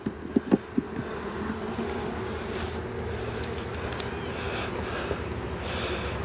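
Honey bees swarm around an opened hive while a weaker colony is being boosted, a dense steady buzz that fills the whole stretch, with a few sharp knocks from the wooden hive box at the start.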